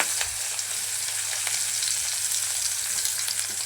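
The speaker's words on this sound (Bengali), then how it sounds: "আমি এখন একটা কড়াই বসিয়ে দিয়েছি তো এখানে আমি তেল দিয়ে দিচ্ছি" Oil heats in a wok (kadai) for fish curry with potato and pointed gourd, giving a steady, close, hissing sizzle with faint crackles and no talking.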